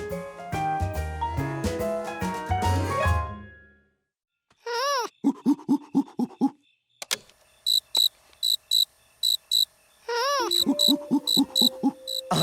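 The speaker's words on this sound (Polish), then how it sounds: "więc udało ci się nagrać świerszcza" Cricket chirping in a cartoon, a series of bright, rhythmic pulsed chirps repeating in short bursts with pauses between, close and clear, following a stretch of music.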